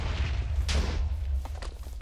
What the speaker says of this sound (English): I have a feeling Mothra is fighting something, because that is a lot of explosions